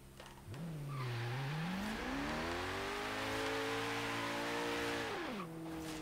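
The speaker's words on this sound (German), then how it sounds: "Da gebe ich jetzt einfach mal Vollgas." A car in the racing game Forza Horizon 3 is pushed to full throttle, its engine climbing from idle into a loud, sustained high rev that holds for several seconds before easing off, with no talk.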